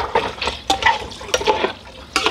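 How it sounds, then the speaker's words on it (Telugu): Water poured into a pressure cooker over mutton head pieces for curry, splashing and sloshing in short uneven bursts with clinks against the metal pot, close by and without talk. "ముక్క మునిగేదాకా పోసినావు"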